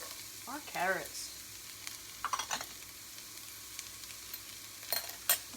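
Onions and carrots frying in a pan for fried rice, a soft, close sizzle with a few scraping stirs and light clatters of a wooden spoon scattered through; quiet overall, with no voice over it.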